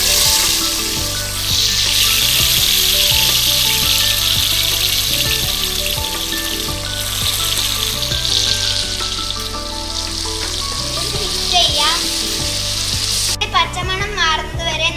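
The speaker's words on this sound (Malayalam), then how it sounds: "പച്ചമണം മാറുന്നത് വരെ നല്ലവണ്ണം വഴറ്റി കൊടുക്കണം" Ground masala paste sautés in hot oil and ghee for fish mandi, giving a loud, continuous close sizzle with stirring scrapes. A brief bright shift near the end suggests running water. No speech.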